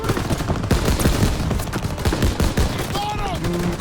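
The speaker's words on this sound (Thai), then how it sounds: "เอาปืนกลยิงรถ" Machine gun fire aimed at a vehicle in Call of Duty: WWII, a steady stream of loud, rapid shots running through the whole stretch with dense battlefield noise behind it.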